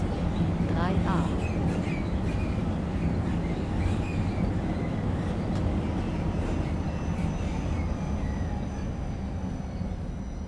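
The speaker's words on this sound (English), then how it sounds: "I love all the creaks and squeaks that this thing makes as it goes along its business" A Type ULF tram in the Tram Sim video game rumbles along with a low, steady running drone, with faint creaks and brief squeaks rising above it early on.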